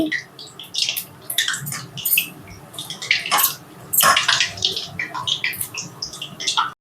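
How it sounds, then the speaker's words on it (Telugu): Urad dal vadas dropped into hot oil for frying, a loud, busy bubbling sizzle with crackling spatters, steady and close throughout. "ఆయిల్ వేడయ్యింది ఇప్పుడు గారెలను వేసుకుందాం ఇలా సరిపడినన్ని గారెలు వేసుకొని కాల్చుకోవాలి"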